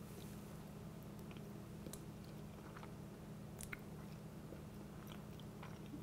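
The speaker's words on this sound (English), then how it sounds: "I want to get a little bit of the cake and also some of that good cream cheese flavored and vanilla flavored frosting" Someone eats cake topped with vanilla cream cheese frosting, with soft, close chewing and faint moist crunches scattered over a low steady background hum, quiet and unhurried.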